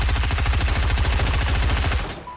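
Rapid automatic gunfire in Fortnite, a fast even stream of loud close shots lasting about two seconds before cutting off.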